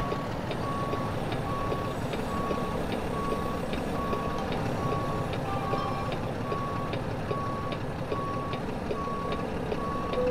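In American Truck Simulator, a truck backs up while its reversing alarm beeps at a steady, regular pace over a constant low engine drone. The sound is continuous and moderately loud, with no talking.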